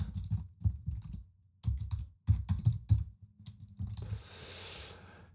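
Keystrokes on a computer keyboard enter a name in audio software, arriving as close, irregular bursts of clicks with short pauses, followed near the end by a brief soft hiss.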